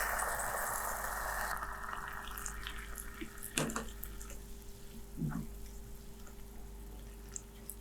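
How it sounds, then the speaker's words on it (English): Stir-fry sauce poured into a hot pan of tofu and vegetables gives a loud, broad sizzling hiss for the first second and a half, then settles into a quieter bubbling simmer with a few faint clinks. "So right here we have the sauce all mixed together, and we're just gonna pour all of that in."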